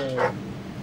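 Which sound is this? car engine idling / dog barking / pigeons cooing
dog barking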